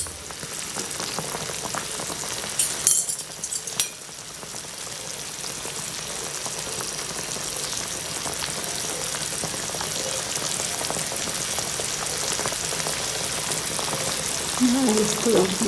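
Chicken for dog food cooks in a pot, and a steady bubbling hiss like a rolling boil fills the whole span. A brief burst of clattering handling noise interrupts it early on, then the continuous bubbling carries on evenly.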